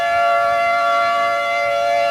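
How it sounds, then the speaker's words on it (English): Tornado warning sirens wail loudly and steadily during an April 1992 tornado outbreak at Fort Supply, Oklahoma, a sustained rising-and-falling civil defense tone filling the air with no voices. "If you can hear me over these sirens"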